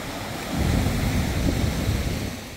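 Sea waves at Vizag beach at night, a low rumbling surge of surf that swells after a quiet start and keeps washing steadily, blended with wind noise.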